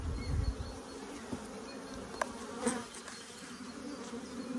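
Bees buzz steadily around an open beehive whose brood-nest frames are filled with nectar, a dense close hum with a few louder passes near the microphone, and no speech.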